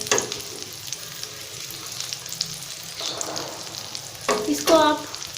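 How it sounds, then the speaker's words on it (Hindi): Food frying in a pan for a homemade kids' lunch, a soft continuous sizzle with brief bursts of louder crackling and a spoon scraping near the end. "ये आप देख रहे हैं फ्राई हो रहा है।"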